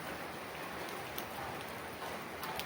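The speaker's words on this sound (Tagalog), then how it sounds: "umuulan lakas" Steady, dense rain pouring down, a broadband hiss with scattered sharper drops striking a surface close by, continuous throughout with no voices.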